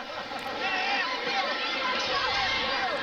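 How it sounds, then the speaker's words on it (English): Wrestling arena crowd of about 5,500 people producing a dense, steady roar of chatter and shouts, loud and continuous, with a commentator's voice over it. "Oh, crowd. There's"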